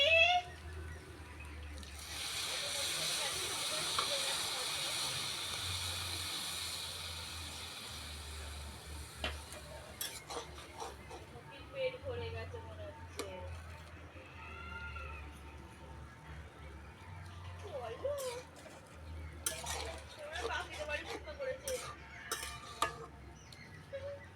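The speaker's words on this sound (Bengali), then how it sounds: "এবার আগে থেকে জাল করে রাখা দুধ দিয়ে দেবো।" Boiled milk poured into a pan of fried carrots for carrot payesh, a steady liquid pour and sizzle for several seconds followed by metallic clinks and scraping of utensils against the pan.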